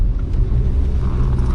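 A 1956 Mercedes-Benz 220S is driven, with a low, steady engine rumble heard from inside the car at close range.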